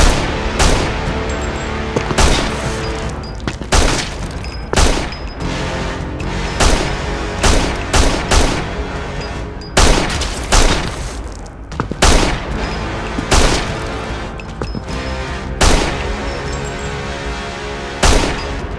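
Rapid volleys of gunfire ring out in a chaotic fight during a Friday the 13th horror scene, dense bursts of shots and heavy thumps cracking close and loud for the whole stretch with no talk.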